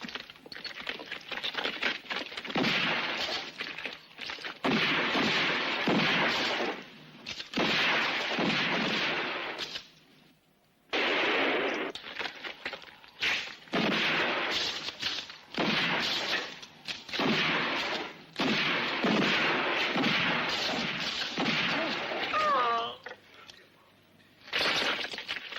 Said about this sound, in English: Indians can really shoot